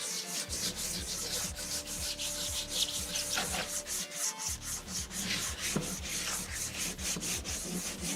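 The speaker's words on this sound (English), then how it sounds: "Just like a hand sandpaper like this is quite good for the cracks" Hand sandpaper rubs over the body of a scratch-built Edge of Tomorrow VTOL dropship model, a rapid, steady back-and-forth rasping repeated continuously at close range with no talk.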